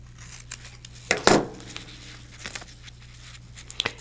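Sharp scissors snip through foundation paper during quilting, with one brisk cut near the middle and a few faint, scattered snips around it in an otherwise quiet room.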